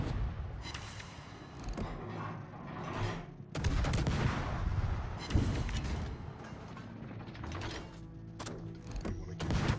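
Naval gunfire from an enemy light cruiser in World of Warships: booming shots and impacts crack out irregularly over a steady engine and sea rumble, with a faint voice in the mix.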